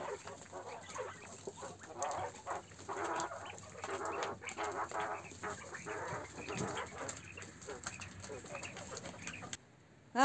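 Caged quails after feeding, a steady busy chorus of clucks and chirps filling the whole stretch at moderate loudness, with no speech over it.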